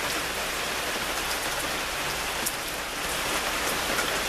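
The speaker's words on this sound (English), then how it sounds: "It's absolutely almost pouring. Yeah, you have to call this as pouring." Heavy pouring rain, a dense, unbroken hiss of drops striking surfaces, steady and enveloping throughout with no voices.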